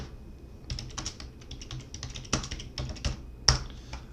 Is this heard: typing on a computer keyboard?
yes